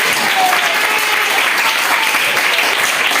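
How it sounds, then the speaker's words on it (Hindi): A classroom of students claps together loudly and continuously for a few seconds, an even burst of applause that fills the room, with a voice faintly audible beneath the clapping. "तालियां बजा दो एक बार अपने लिए"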